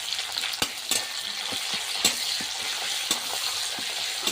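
Chopped tomato hits a pan of onion already fried with panch phoron for a jackfruit and prawn curry, giving a steady close sizzle broken by sharp scraping stirs at irregular intervals, with no talking.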